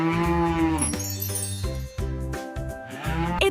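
A cow on a toddler-oriented zoo tour gives a loud, drawn-out moo that wavers in pitch, followed by a second lowing call, close and clear with no talking.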